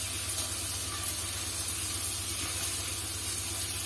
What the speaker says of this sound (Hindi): मैं ये सॉस डाल दूँगी अच्छी तरह इनके ऊपर